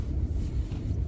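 Strong wind buffeting the microphone on a walk toward the sea in Tbilisi, a steady low rumbling roar that fills the whole short moment without talk.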